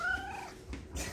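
A house cat gives a drawn-out, wavering meow in a home kitchen, fairly close and moderately loud, followed by soft rustling handling noises.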